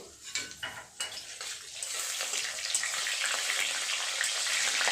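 Dried chilli, bay leaf, whole spices and cumin seeds hit hot oil for an egg tadka; a few pan and utensil clinks come first, then a loud, steady sizzle that builds and holds.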